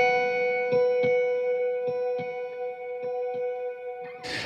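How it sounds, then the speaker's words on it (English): A guitar library patch from the Hemisphere library, the Alone patch, runs through a modern echo set to a half note, giving a steady sustained tone with soft repeating plucks and echoes at even intervals, ending in a brief noisy burst. "So I'm using the modern echo at a half note"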